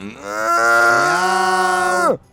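A single long, harmonically rich goat bleat from Minecraft holds steady for about two seconds, then drops sharply and cuts off.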